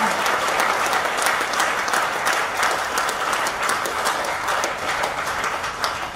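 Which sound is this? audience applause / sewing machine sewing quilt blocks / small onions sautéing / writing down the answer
audience applause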